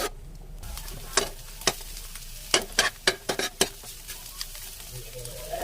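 An egg cooking in a pan ahead of stir-frying carrots and cabbage, a low sizzle punctuated by a run of sharp spatula scrapes and clacks against the pan.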